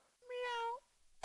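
Cat meowing in the Roblox game Rat House, a single clear drawn-out meow lasting about half a second against near silence.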